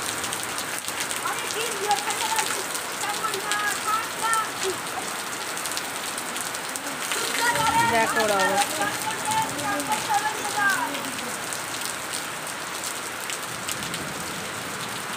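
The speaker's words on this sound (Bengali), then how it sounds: "প্রচুর বৃষ্টি হয়েছে" Heavy rain falling outdoors in a steady dense hiss of drops on surfaces, loud and continuous, with a person briefly speaking over it.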